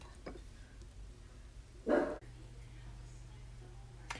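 A single dog bark, fairly faint and somewhat distant, rising briefly over a quiet background hum.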